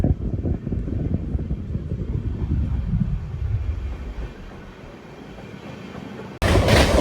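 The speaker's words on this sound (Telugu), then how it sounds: "అది మన ట్రైన్ క్రూజింగ్ స్పీడ్." Satavahana Superfast Intercity Express with LHB coaches cruising near 110 km/h past Cherlapalli: a steady, close rolling rumble and wheel noise that gradually eases, then a sudden loud burst of rushing noise at the very end.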